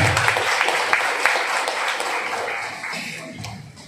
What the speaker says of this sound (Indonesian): Tepuk tangan buat Al-Hikmah